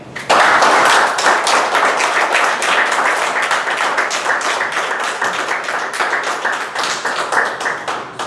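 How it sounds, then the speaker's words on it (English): A Toastmasters meeting audience gives a big round of applause, many hands clapping steadily and loudly for several seconds and tapering slightly near the end. "give him another please, big round of applause"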